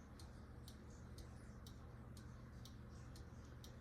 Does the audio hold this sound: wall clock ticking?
yes